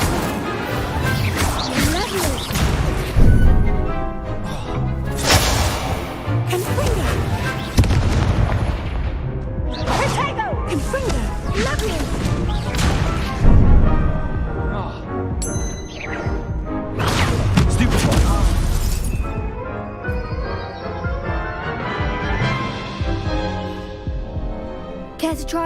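Incendio fire spell casts in Hogwarts Legacy, heavy booming blasts and crashes in repeated bursts amid loud combat effects and music, dense and forceful throughout.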